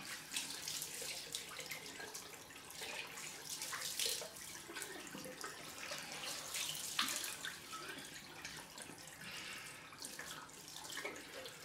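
A tap runs steadily for a cold-water rinse after a wet shave, a soft, continuous splashing and hiss at low volume with no talking.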